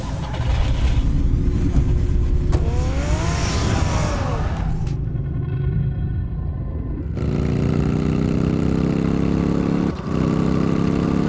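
A car engine in a Batman video game rumbles steadily, with a rising rev partway through, then settles into a deeper idle drone under background game music.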